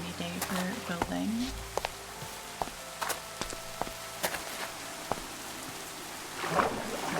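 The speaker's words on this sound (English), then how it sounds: "Our nice little rainy day. Nothing like a rainy day for building." Rain falls in Minecraft with the Jinxweed modpack, a steady soft patter under sparse clicks and game sounds, with a brief voice near the end.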